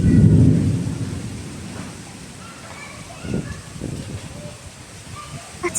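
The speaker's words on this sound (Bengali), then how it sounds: "তোমরা এখানে জাস্ট মেঘের আওয়াজটা শোনো" Thunder rolls during a rainstorm. A loud, deep rumble opens and slowly fades, then quieter rumbles follow over steady falling rain, with a few sharper gusts near the end.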